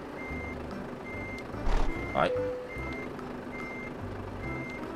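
Evenly spaced beeps from a reversing car-carrier truck in Euro Truck Simulator repeat steadily over a low idling engine, broken by a brief hiss of air and a short exclamation from a voice.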